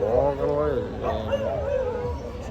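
Close dogs barking and yelping at night, a quick run of high, wavering barks and whines on a street.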